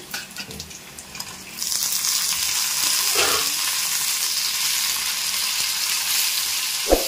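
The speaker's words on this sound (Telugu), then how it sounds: "ఇప్పుడు టమాటాలు అయితే వేసుకున్నాము" Tomatoes tossed into a pan of onions already fried, then a loud, steady sizzle that jumps up midway and holds, with a scrape of stirring near the end; close, no talk.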